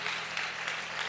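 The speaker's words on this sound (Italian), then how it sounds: "l'applauso ci sta." A brief, steady wash of applause from the crowd at a charity band concert, even and moderately quiet with no clear gaps.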